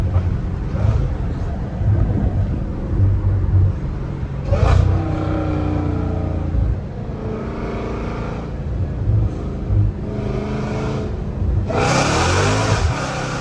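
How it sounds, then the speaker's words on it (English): A Dodge Challenger Hellcat Redeye with an 850 hp engine revving hard through the gears, a loud, continuous rising and falling roar with sharp climbs in pitch and shifts, heard from inside the car. "Oh, I love the way this car sounds, man."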